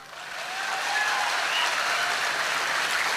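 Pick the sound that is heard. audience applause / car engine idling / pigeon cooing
audience applause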